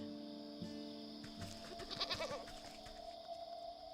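A goat in the video game Wytchwood lets out a wavering bleat in the middle of the clip, clear over a steady hum of game music, with no one talking.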